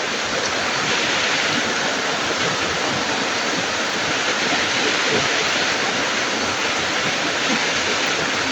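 Rainwater running in a steady, dense rush that sounds like pouring or cascading water, loud and continuous throughout with no pauses or voices.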